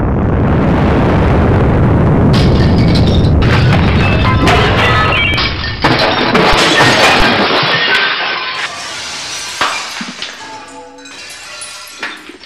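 A bomb goes off in a heavy, loud boom that rolls on for several seconds, followed by crashing debris and scattered smaller bangs as it dies away.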